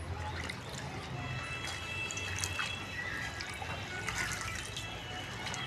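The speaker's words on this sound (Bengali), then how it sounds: "এবার আমার পাতাগুলো জলের মধ্যে চুবিয়ে দিয়েছি, দিয়ে ধুয়ে তুলছি, পরিষ্কার করে তুলব।" Pumpkin leaves are dunked and washed in a container of water, giving a steady soft trickling and dripping with occasional splashes, close and fairly quiet with no talking.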